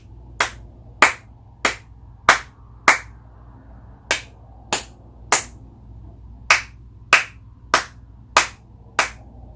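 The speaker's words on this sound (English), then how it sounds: "So I'm going to go ahead and clap line 2 and follow along." Hands clap out a rhythm line for beginner music reading, about fourteen sharp, close claps in an uneven pattern with short pauses between groups, over a faint low hum.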